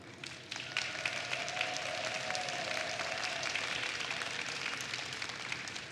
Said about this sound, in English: Please share by way of your applause